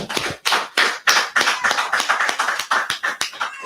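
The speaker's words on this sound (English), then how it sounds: "clap it up" Hands clapping in a small gathering at a church feast, a run of sharp claps that starts uneven and settles into a quick steady rhythm, close and fairly loud with no talk over it.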